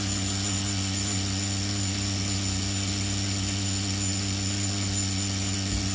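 A Tamiya TGS-R nitro RC car engine idles after its nearly locked carburetor was freed, a steady, continuous buzzing drone held close and loud, alone with no talk.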